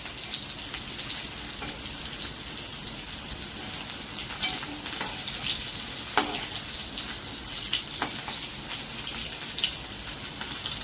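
Stuffed karela (bitter gourd) frying in hot oil, a dense, even crackling sizzle held steady throughout with a few faint clicks of a utensil, no voices.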